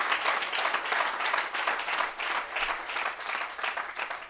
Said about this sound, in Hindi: मैं चाहता हूँ सारा सदन हाथ उठाकर एक बार जोरदार तालियां करके लिए बजाए।